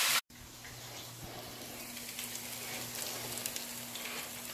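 Sour cream and cheddar hash brown patties sizzle steadily in a hot pan after a brief louder start, a soft continuous crackle and spatter with no talk.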